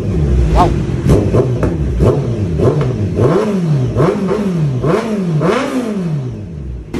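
Kawasaki Z900 motorcycle fitted with an R11 exhaust, revved repeatedly in quick blips, each rising and falling sharply, loud and close; a voice exclaims briefly.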